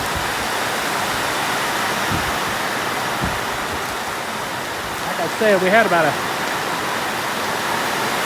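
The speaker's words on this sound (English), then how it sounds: "It is a downpour now." Heavy thunderstorm rain pounds a barn roof as a steady, loud broadband roar throughout, with someone talking over it and a brief rumble near the end.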